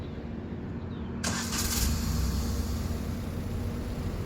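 A car engine starts during reverse driving practice: after a quiet stretch, it catches with a sudden burst and settles into a steady, moderately loud idle rumble heard from inside the car.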